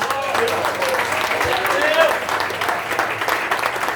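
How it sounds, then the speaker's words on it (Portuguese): Churchgoers at an Assembleia de Deus Renovada service clap together in a continuous round of applause, dense and fairly close, with voices talking and calling out beneath it. "Quantos podem bater a salva de palmas por Jesus?"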